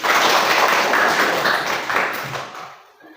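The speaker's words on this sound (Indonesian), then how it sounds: "Tepuk tangan dulu" Schoolchildren in an Indonesian lesson clap together in a loud, close burst of hand claps that holds for a couple of seconds, then thins and fades out toward the end.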